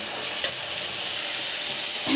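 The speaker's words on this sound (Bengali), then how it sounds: "এখানে আমার পেঁয়াজ রসুনটা ভাজা ভাজা হয়ে গিয়েছে" Onion and garlic frying in a pan, a dense, even sizzle holding at a constant level for the whole stretch, close and uninterrupted.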